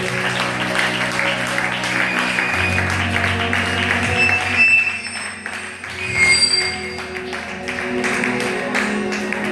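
A church congregation at a Sunday service applauds and cheers for Jesus, with sustained clapping and voices filling the room, rising and falling in waves over several seconds.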